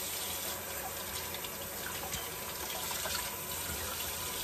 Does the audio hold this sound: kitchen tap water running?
yes